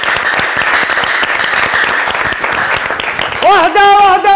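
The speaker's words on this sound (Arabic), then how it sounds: "تصفيق لكم انتم عراف." Loud, dense audience applause at a stage show, a steady wash of many hands clapping, with a voice breaking in near the end.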